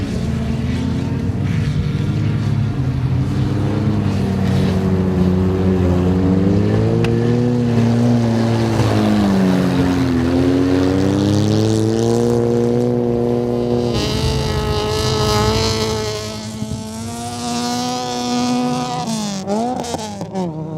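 Race cars held to a rev limiter circle a track together, a loud, continuous buzzing drone of several engines with pitches rising and falling as they pass. It lasts about twenty seconds, with no voices.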